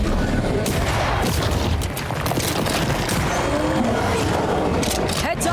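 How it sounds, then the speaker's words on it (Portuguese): Bursts of gunfire crack and boom through a combat scene in the video game Banishers: Ghosts of New Eden, dense rapid shots and impacts layered over game sound for several seconds, with a voice speaking at times. "olha o tiro"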